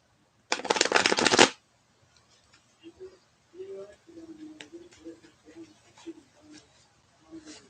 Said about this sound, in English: Shuffling them, splitting the deck,